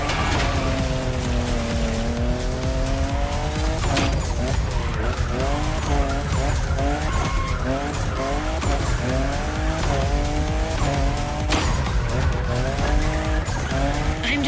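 Car drifting in The Crew Motorfest racing game, with sustained wavering tire squeal over a loud engine roar, continuous and close for the whole stretch.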